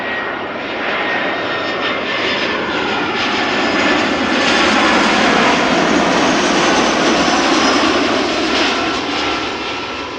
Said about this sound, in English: So can also show you the triple from Emirates Sky Cargo, the diverting flight from Nairobi to Maastricht